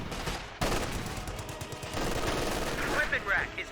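Gunfire in Company of Heroes 2 as a paratrooper squad fires away, with sharp rifle and machine-gun bursts rattling over a busy battlefield backdrop.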